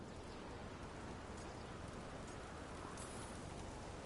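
Steady rain falls throughout a scene in the video game Dragon Age: The Veilguard, a dense, even hiss of drops on surfaces with no pauses, moderately quiet and continuous.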